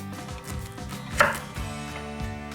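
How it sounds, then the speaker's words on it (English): A knife cutting Brussels sprouts in half on a board, heard as several close, firm chopping taps at an irregular pace over a backdrop of soft music. "I'm cutting my Brussels sprouts in half because I want as much of it roasted as possible."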